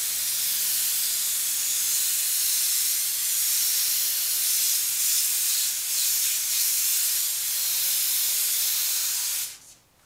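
Airbrush hissing steadily as it sprays purple paint onto a shirt to shade around a heart design, a continuous close, loud spray that cuts off abruptly at the end.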